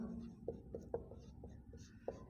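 Pen or chalk writing a definition during a class 6 lesson on angles, with quick scratchy strokes and a few sharper taps over a low room hum, close and fairly quiet.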